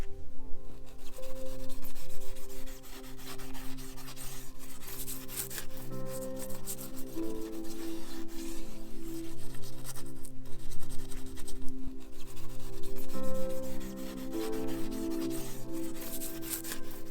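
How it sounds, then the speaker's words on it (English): A red 3M Scotch-Brite pad rubs lightly over the painted side panel of a self-built camper, a continuous close scouring swish with steady back-and-forth strokes and no talk. "Give that a nice light rub over your paintwork"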